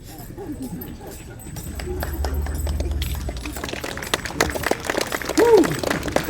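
Horses galloping at a staged Billy the Kid shootout show, a rapid clip-clop of hooves that builds under a loud crowd and is joined by shouting voices.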